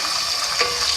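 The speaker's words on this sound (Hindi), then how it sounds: "सबसे पहले हम ऑयल में प्याज लेंगे और उसको फ्राई करेंगे।" Sliced onion frying in oil in a pan for a kofta karahi, a steady broadband sizzle throughout with a brief louder crackle midway, close and fairly loud with no voices.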